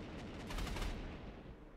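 Anti-air artillery fire from Panzer Corps 2, a short burst of muffled rapid thumps that swell and then fade, faint and distant-sounding, with no voices.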